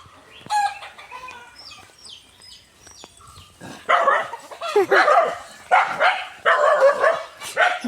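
A dog barks in loud, repeated bursts in the second half, after a stretch of roosters crowing and hens clucking nearby.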